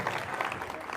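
A brief burst of audience applause at a Catholic talk on faith, steady clapping from many hands filling the whole moment with no voices on top.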